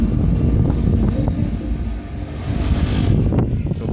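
A yellow-and-black chichigua kite hums in the breeze, giving a loud, continuous low droning rumble that swells and dips slightly, mixed with gusty wind buffeting the microphone.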